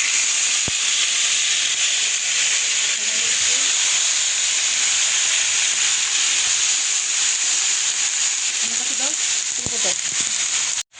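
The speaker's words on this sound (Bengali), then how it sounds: "এখন টমেটোটা আমি কড়াইতে দিয়ে দিচ্ছি।" Tomato tossed into a hot kadai for a home-cooked ilish fish dish gives a loud, constant frying hiss that runs unbroken close to the mic and cuts off abruptly at the end.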